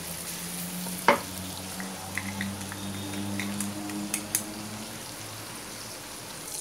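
Garlic sizzles steadily in a hot pan beside onion while a Brazilian farofa is cooked for a Christmas dinner, with a soft continuous fry, a sharp clack near the start and a few light taps later.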